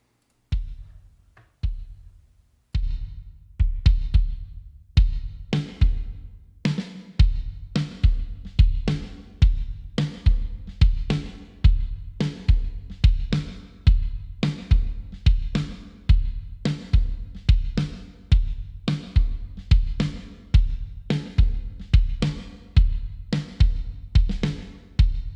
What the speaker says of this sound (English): Just kind of crushing the signal some, just to kind of bring out, accent the transients in our kick and our snare.